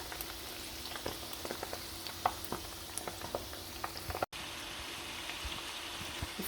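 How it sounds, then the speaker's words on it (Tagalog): Tofu frying in a pan at home, a steady close sizzle with scattered small pops and crackles throughout, no voices over it. "Toasted tofu."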